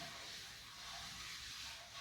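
Rice flour batter sizzles steadily in hot oil for pakora-like punugulu, a continuous, faint, even hiss with no breaks.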